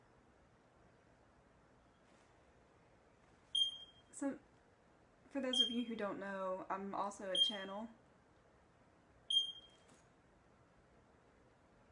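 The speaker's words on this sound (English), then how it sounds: "I don't know why that fire alarm started beeping" Sharp, high electronic chirps from a smoke alarm sound a few times, spaced apart, with someone talking quietly between them.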